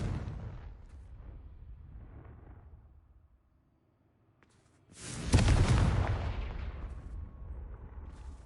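A Confringo blasting spell in Hogwarts Legacy goes off as one loud, close explosive boom that rumbles and slowly fades, following a quieter stretch of muffled game ambience and a brief near-silence.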